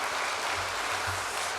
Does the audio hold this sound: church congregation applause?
yes